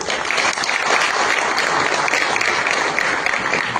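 Sustained applause from a crowd at a political rally, dense steady clapping at full volume throughout with no break.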